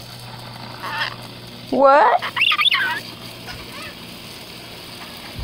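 A blue Rainbow Mountain lorikeet gives a short burst of loud, squawky chattering calls up close, with a person speaking briefly nearby.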